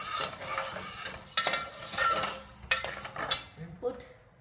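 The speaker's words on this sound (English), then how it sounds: "Again you have to cook it, and continuously you have to keep on stirring it." Guava jelly cooking in a pot is stirred continuously, a soft scraping and occasional clink of a spoon against the pot over a faint bubbling sizzle, quiet and close, with no voices.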